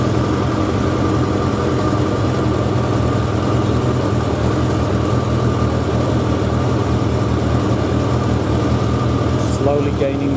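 A Suzuki 1100G motorcycle engine runs at a steady idle, loud and close, with a constant low rumble and no pauses.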